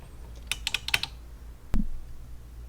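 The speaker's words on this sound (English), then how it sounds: "it does at least make switch sounds" Several quick clicks of old TRS-80 computer keyboard switches being pressed in a short burst, then one sharper clack, with nothing else around.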